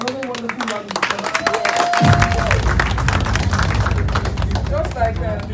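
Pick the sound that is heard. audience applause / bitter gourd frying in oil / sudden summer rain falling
audience applause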